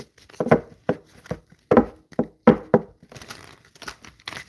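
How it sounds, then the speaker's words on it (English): Tarot cards being shuffled by hand, heard as a run of crisp, papery riffling bursts in an uneven rhythm, close and fairly loud. "I'm going to shuffle these cards really good"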